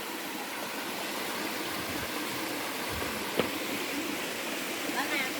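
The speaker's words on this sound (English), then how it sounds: "I love the sound of the water." Rushing water at a water park makes a steady, broadband roar like a stream, continuous and fairly loud, with a faint thump and splash partway through.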